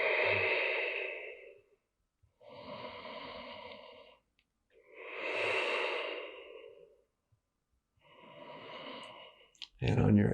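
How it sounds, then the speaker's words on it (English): Four long, deep, slow breaths during a seated chair breathwork exercise, each drawn in and released audibly and close, separated by brief pauses, with a voice starting at the end. "2 more big breaths here."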